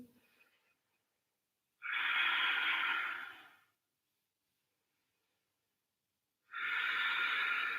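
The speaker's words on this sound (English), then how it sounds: "Deep Ujjayi breathing." Deep Ujjayi breathing in a strong yoga flow, heard as two long, loud, hissing ocean-like breaths a few seconds apart, close up, with quiet pauses and no talk.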